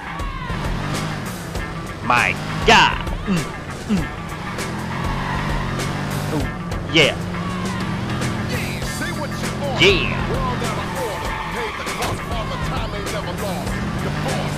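Car engine revving in Watch Dogs, with the motor droning steadily throughout and brief sharp tire skids, while a man exclaims excitedly over it.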